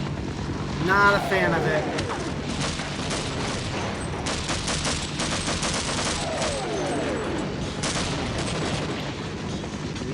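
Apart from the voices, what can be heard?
air raid bombs in a video game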